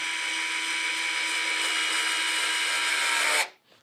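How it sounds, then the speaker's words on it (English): Fanttik cordless screwdriver driving a screw, a steady high-pitched motor whine held for over three seconds before cutting off abruptly, close and clear with no talking. "But we are going to drive this in."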